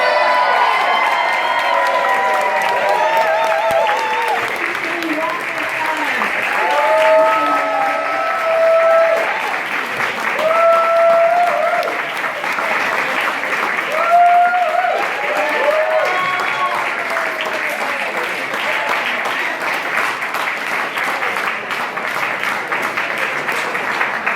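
A large crowd at a Hillary Clinton political rally applauds and cheers steadily, with scattered shouts and whistles rising above the sustained clapping.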